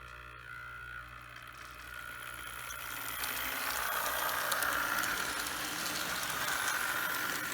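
A model train locomotive runs on its track with a continuous whirring, hissing hum that grows louder and fuller after the first few seconds, then holds steady.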